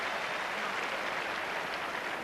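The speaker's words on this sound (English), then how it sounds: "what a cheer for the Spanish #1" A tennis crowd roars and applauds for Spanish player Arantxa Sanchez in a match against Seles, a dense wash of cheering that stays loud and even for a couple of seconds with no other sounds.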